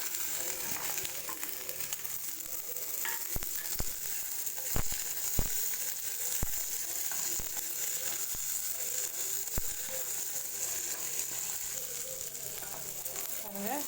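Lentils, chillies, garlic and onion sauté in a pan with a steady soft sizzle, punctuated by occasional sharp clicks of a spatula against the metal.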